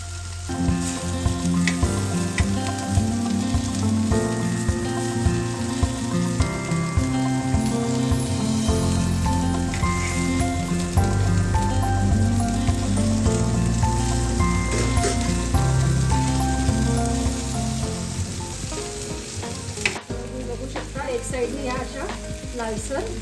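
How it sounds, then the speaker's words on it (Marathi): Pomfret fish fries in a pan and is turned over to cook its other side, giving a loud, steady sizzle throughout with faint clinks, and a short break in the sound about two-thirds of the way through. "आता दुसऱ्या साईडने आपण फ्राय करायला पलटावायचं"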